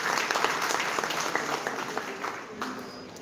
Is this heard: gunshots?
no